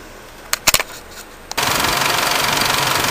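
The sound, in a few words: car engine starting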